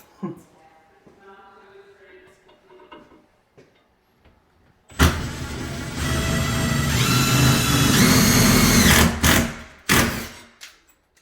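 A quiet stretch of faint sounds, then a power drill starts a screw hole for barn door hardware, buzzing loudly for several seconds, revving up and down before cutting off with a few brief bursts.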